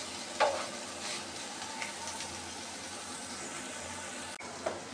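Okra bhaji frying in a pan gives a steady, even sizzle throughout, with a couple of faint clinks from stirring, close by and with no voices.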